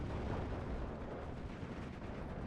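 Mortar fire in the Steel Division 2 battle game, a dense continuous low rumble of distant bombardment with no distinct individual blasts, faint and without voices.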